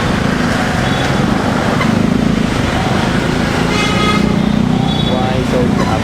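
Road traffic on EDSA between Pasay and Makati, heard from a moving motorcycle: a dense, continuous engine and road roar with a brief horn toot, a rider speaking over the noise.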